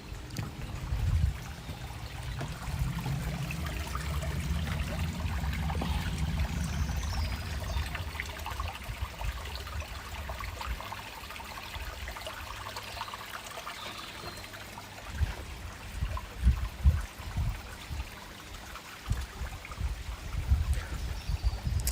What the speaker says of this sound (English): the noise of like a little river or a stream is my favourite thing in the world